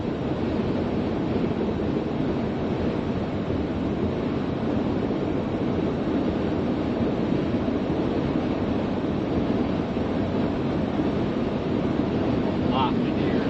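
Strong wind roars steadily through a Christmas blizzard, a loud, unbroken rush that buffets the microphone with no letup.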